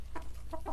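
Chickens clucking softly in a backyard flock fed mealworms, two or three short faint clucks over a low steady background hum.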